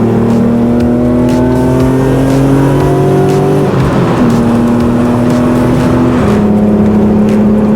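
A 1997 Ford Probe GT drones steadily while driving, its engine note rising through the gears with a buzzy muffler tone, loud and continuous with a shift partway through and no talk.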